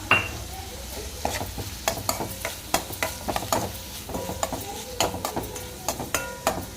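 A spoon stirs and scrapes around a pot, mixing tempering into buttermilk soup, in a quick irregular rhythm, with a faint sizzle beneath, close and fairly quiet.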